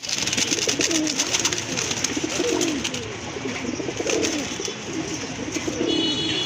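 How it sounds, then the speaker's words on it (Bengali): A pair of lively pigeons with heavily feathered feet coos continuously, one soft throaty call rolling into the next. The calls sit close over a steady background hiss, with no pause in the cooing. "কবুতর খুবই সুন্দর ডাকে, কিন্তু খুবই অ্যাক্টিভ কবুতর"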